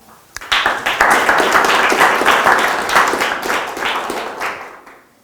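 An audience bursts into sustained applause, dense clapping at full strength through most of the span before tapering at the end, greeting a speaker at an evening bobcat talk at the Kickapoo Valley Reserve.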